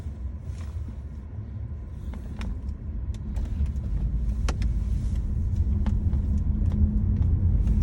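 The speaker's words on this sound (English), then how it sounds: "You can hear very little when it's doing this. This is the motor running at the moment." A hybrid car running in pure electric mode gives only a quiet, low rumble from inside the cabin, steady and faint, with a few light clicks and ticks scattered across it and no talk.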